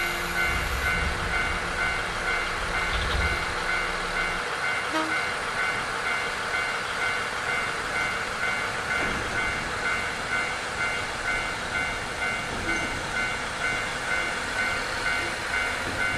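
A train runs on rails with a steady, loud rumble and a regular rhythmic clatter from the wheels on the rail joints, continuous throughout and with no one talking.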